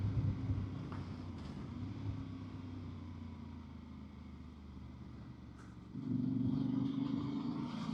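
Voge 300 Rally motorcycle cruising along a country road, a steady engine drone with wind rush from an onboard microphone that rises in loudness near the end, no talk.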